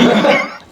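A single short, sharp cough, loud and close, fading quickly.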